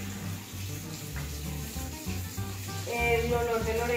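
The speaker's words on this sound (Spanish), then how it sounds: "Por último, voy a lavar mis manos con agua y con jabón" Hands are washed with water and soap under a running tap, a steady close splashing stream that gets brighter and more turbulent near the end as the hands move through the water, with a low hum in the background.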